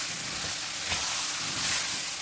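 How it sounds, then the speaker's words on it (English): Vegetables sizzle in a roux for a smoked duck and black-eyed pea gumbo, a steady, close, hissing fry with a faint stir partway through. "I'm just going to incorporate it into my roux and let it cook up a little bit"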